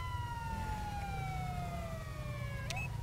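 A police siren in Grand Theft Auto 5 wails with a slowly falling tone over a low engine rumble, ending in a sharp electronic chirp, with no voices.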